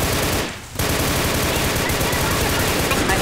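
Sustained automatic gunfire in Left 4 Dead rattles loud and continuous, with one short dip near the start before the rapid shots carry on unbroken.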